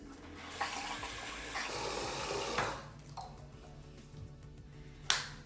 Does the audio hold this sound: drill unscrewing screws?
no